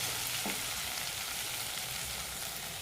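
Masala spices dropped into cooked-down tomato in a pan for a hotel-style fish mango curry, a quiet, steady sizzle with a soft stir near the start and no voices.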